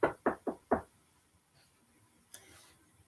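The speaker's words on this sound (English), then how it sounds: "he heard a frightful knocking at the door" Four quick, loud knocks rap on a door in an even rhythm, then give way to near silence with a faint brief rustle afterward.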